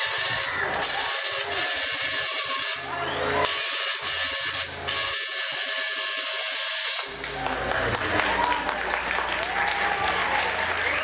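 A theatre audience applauds in a full, sustained burst of dense clapping that briefly dips and then continues strongly, with a voice speaking over the applause near the end.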